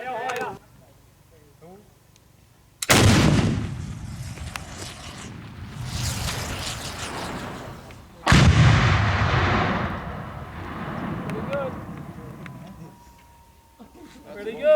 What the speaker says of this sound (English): And this is one of the weirdest RPGs I've ever fired. RPG 9.